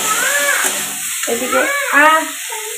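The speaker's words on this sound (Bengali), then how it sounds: "এদিকে করছি মাছ, আর এদিকে করেছি সবজি ভাজা" Fish and vegetables frying in separate pans give a steady hiss of sizzling oil, with clinks of utensils stirring and a few faint background sounds.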